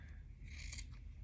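Scissors trim sweater fabric while a stuffed sweater toy is being made, a brief soft snipping and rasping at close range, quiet and alone.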